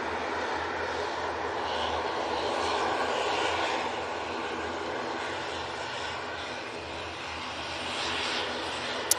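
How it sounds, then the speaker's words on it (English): An Aer Lingus ATR turboprop departs from a runway at Manchester Airport, its steady engine roar filling the whole stretch at a constant, moderately loud level without speech. "our last departure off this runway will be this Aer Lingus ATR"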